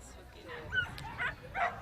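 Several short yips and barks from dogs, three brief bursts spaced about half a second apart, heard moderately close with faint background murmur.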